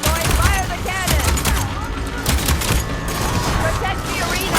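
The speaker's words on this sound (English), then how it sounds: "Go on, Aloy, fire the cannon!" Cannon fire in the video game Horizon Forbidden West during an arena battle, a rapid run of loud booming shots and blasts with clattering mechanical noise, while voices speak over the action.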